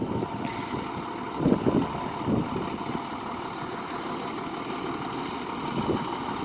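An old school bus being converted into a skoolie rolls slowly, making a low continuous engine and rolling rumble with a few heavier thumps and some wind noise, heard at a moderate distance.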